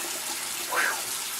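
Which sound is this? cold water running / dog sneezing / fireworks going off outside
cold water running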